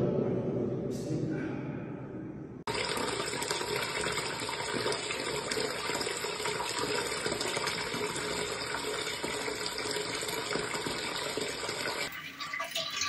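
Water brought from a village is poured out near a worn tap, pouring and splashing continuously and loudly at close range, with a brief change in tone near the start and again near the end.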